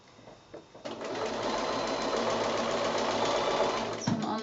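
A sewing machine whirs in one continuous close run, stitching quilt binding down to a previous stitch point, after a few soft handling sounds.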